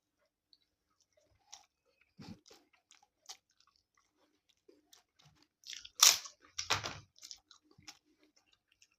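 Meal of rice, dal, marua fish and papad being eaten up close: sparse soft chewing and small clicks, then a cluster of loud, sharp crunchy bites midway, easing back to quieter chewing.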